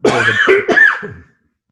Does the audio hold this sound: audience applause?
no